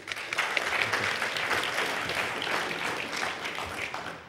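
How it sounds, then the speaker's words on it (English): An audience at a conference talk on hard drive data recovery applauds a speaker, a dense, continuous roar of clapping that stays full and even from start to finish. "so give him a big round of applause."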